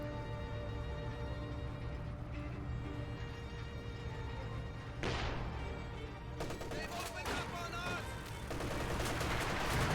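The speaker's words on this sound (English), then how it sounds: "120mm mortars now engaging." Mortar and gunfire in a Company of Heroes 2 battle, with Soviet and OKW forces clashing: dense, continuous rattling shots and thuds run throughout, and a sharper burst of impacts comes near the middle and again toward the end.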